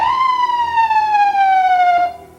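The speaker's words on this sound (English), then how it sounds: "bump the siren switch" An ambulance siren sounds in a single steady, slowly falling wail lasting about two seconds, loud and close, then cuts off abruptly.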